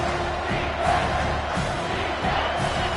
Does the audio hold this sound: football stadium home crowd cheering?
yes